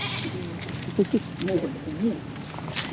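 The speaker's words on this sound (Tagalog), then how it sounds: "Yung mga kambing, ayaw pa kami padaanin. Move. Sheep, move." Sheep and goats on a farm give several short wavering bleats, close by and fairly loud, with a person speaking in between and around them.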